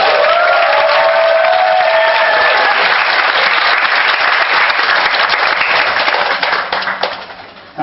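An audience in a small theatre applauds at a proposal event in a dense, steady burst of clapping with faint cheers, fading toward the end.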